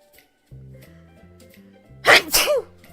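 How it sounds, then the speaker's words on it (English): A single sharp, loud human sneeze in two quick bursts, taken during a self-portrait painting session, rising abruptly over soft background music. "I think I've sneezed a few times."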